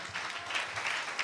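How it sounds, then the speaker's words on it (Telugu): A church congregation claps together in a brief, faint burst of applause, with a steady rhythm of hand claps heard from a distance. "చప్పట్లు కొడుతూ ప్రభుకి స్తోత్రాలు చెప్దాం"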